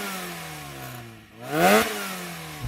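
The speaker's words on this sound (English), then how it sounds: "Now you can hear that supercharger whining away. This uses a Root Star supercharger and they make this whining sound." A modified Mazda Roadster NB with a Roots supercharger revs hard. The engine note dips, then climbs to a loud peak with a bright supercharger whine, and settles back to idle, heard close with no talk.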